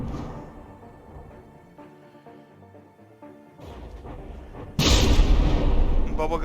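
Heavy artillery barrage between battleships in the From the Depths naval combat game: quieter gunfire and engine rumble give way to a sudden loud burst of booming, crashing shellfire that keeps roaring to the end.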